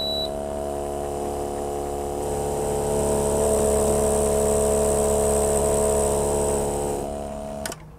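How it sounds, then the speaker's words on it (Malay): A Hailea CP60 AC/DC oxygen air pump running on battery power, a loud steady electric hum with a high whine that swells slightly, then cuts off abruptly near the end. "Sekarang kita akan cuba hidupkan pump ni dengan menggunakan tenaga daripada bateri ni."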